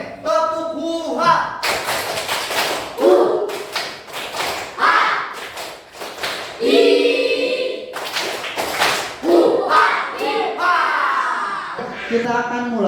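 A primary school class performs the Tepuk huha clapping routine in a classroom, bursts of group claps alternating with loud chanted shouts from many children, repeating rhythmically throughout.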